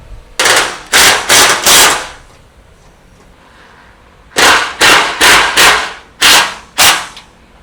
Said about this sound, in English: When we're tightening the hardware that runs down the length of our roll cage